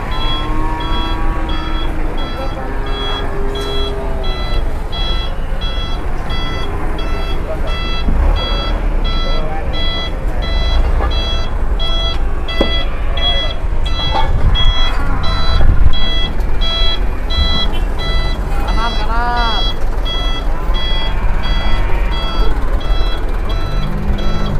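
A reversing truck's steady beeping repeats over loud, constant engine and crowd noise while jumbo cattle are unloaded, with people talking and animal calls mixed in.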